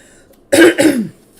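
A single close throat clearing, two rough guttural bursts in quick succession, heard alone in a quiet room.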